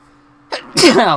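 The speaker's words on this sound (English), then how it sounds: "I needed to sneeze, and I sneezed." A single sneeze, loud and close, bursting out after a short intake of breath in an otherwise quiet room.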